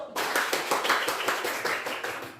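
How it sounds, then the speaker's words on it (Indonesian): A classroom of students claps for a presenting group, a brisk burst of hands starting abruptly and carrying on at a close, moderately loud level. "tadi kasih tepuk tangannya untuk kelompok 1"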